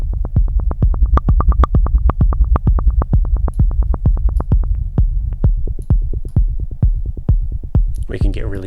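Techno rumble synth with its resonance raised, deep pulsing low bass hits repeating in a steady fast rhythm, loud and close, with a brief noisy burst at the end and no talking.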